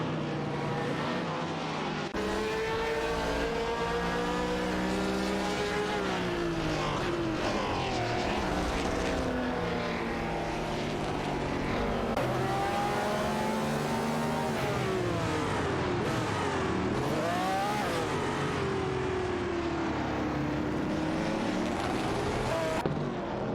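Nissan R382 and Ferrari 712 race cars battle for position in a racing video game, their overlapping engine notes whining and sweeping up and down with gear changes in a dense, continuous roar with no voices.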